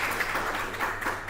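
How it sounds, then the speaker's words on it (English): Audience applause at a remote sensing and agriculture talk, a steady wash of many hands clapping at moderate volume with no talk over it. "Just a round of applause"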